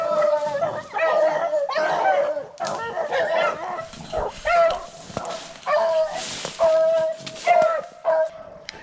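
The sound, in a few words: beagles baying while running a rabbit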